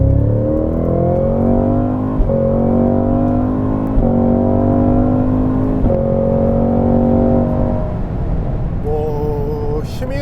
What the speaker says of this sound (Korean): 먼저 캐딜락 CT5V 블랙윙 가속 성능부터 한번 보겠습니다.